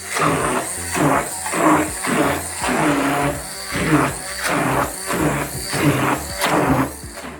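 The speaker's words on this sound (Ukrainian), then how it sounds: "Гарненько перебиваємо блендером." A blender whirs loudly in repeated pulses, its motor rising and dipping roughly every second as a thick pâté mixture churns.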